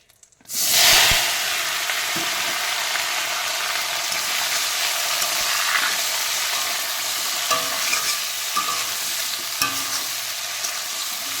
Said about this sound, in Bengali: এবার আমি এটাকে এই মাছের তেলেই কিন্তু সুন্দরভাবে লাল লাল করে এই মাছের মতোই ভেজে নেব